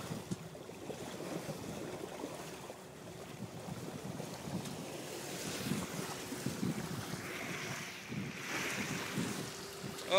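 Sailboat on the open ocean off Isle au Haut, Maine, with steady wind buffeting the microphone and waves washing against the hull, a continuous broadband rush that swells slightly in places, with no talking.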